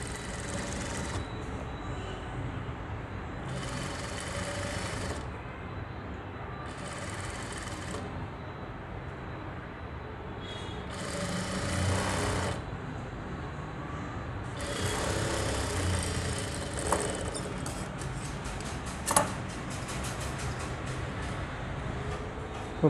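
Sewing machine stitching a patta patti pocket onto a garment, its motor running in several separate bursts of a few seconds each with short pauses between, fairly close and steady.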